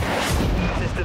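Ship cannon fire in the game Dreadnought, a single dense blast that fills the whole second with heavy rumbling weight, loud and close.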